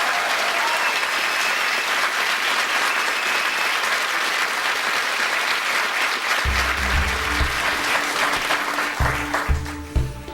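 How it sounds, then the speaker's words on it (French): A TV studio audience claps steadily in loud, sustained applause, with music joining underneath partway through and a voice cutting in at the end. "On l'applaudit."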